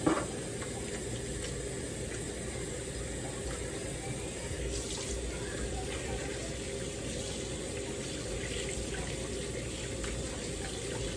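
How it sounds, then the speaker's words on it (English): Tap water runs steadily into a kitchen sink for hand washing, a continuous close hiss and splash with no talking. "so now I'm gonna wash my hands"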